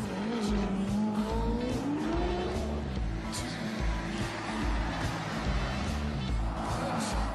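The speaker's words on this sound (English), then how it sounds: "We're completely overtaken by these incredibly expensive, vulgar, outrageously noisy cars" Expensive, loud supercars race through a town street, engines roaring and tires squealing in a rising whine near the start, then a steady dense rumble of revving motors close by.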